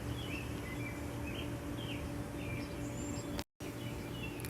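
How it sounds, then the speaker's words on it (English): Birds chirp and call in a backyard beside a pool deck, light scattered tweets at a moderate distance over steady outdoor background noise, with no talking. "And the birds are singing."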